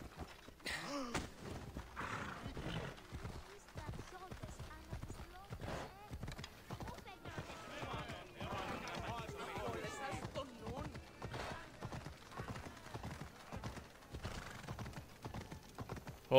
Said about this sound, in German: Wir nehmen das Pferd hier direkt.